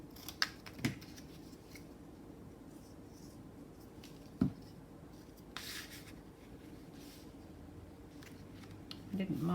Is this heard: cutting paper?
yes